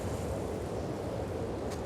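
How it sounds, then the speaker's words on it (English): Strong wind and storm noise from The Last of Us Part II, a steady, dense roar of gusting air with a surf-like rush holding at a constant loud level throughout, with no voices. "Ooh, that is quite a lot of wind."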